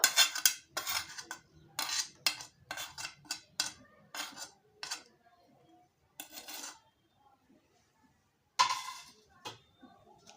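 Spoon clinks and scrapes against a bowl while sugar, salt, turmeric and dry chilli powder are stirred into a coriander leaf pickle mix, coming in close, irregular bursts with pauses between.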